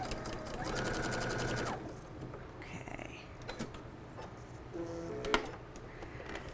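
A sewing machine runs in short bursts stitching a quarter-inch seam with a presser foot guide, whirring and ticking up close, with pauses and faint handling noises between runs.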